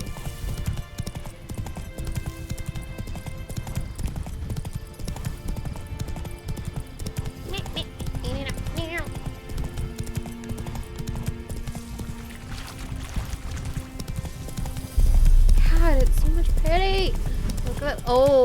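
Roach the horse galloping in The Witcher 3, hooves clip-clopping in a steady rhythm across the whole stretch under game music and a streamer's talk, turning louder and heavier toward the end.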